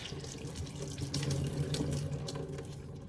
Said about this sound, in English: I have another plantain leaf. I'm gonna wash it